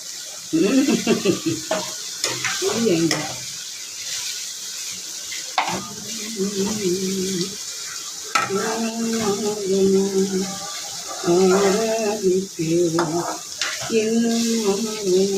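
Spices crackle and sizzle as they are tempered in hot oil in a pan, with stirring and clinks of a utensil throughout, close up; no speech.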